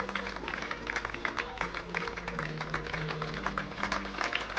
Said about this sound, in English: this Visit Worcestershire New Road crowd show their appreciation